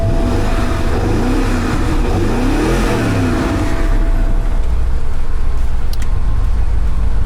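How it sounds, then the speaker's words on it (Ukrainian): A BMW car engine idling steadily just after starting, a loud, close, continuous hum with a faint tonal whine, with no talk. "Давайте спробуємо її завести. Так, без проблем вона завелася. Послухаємо звук."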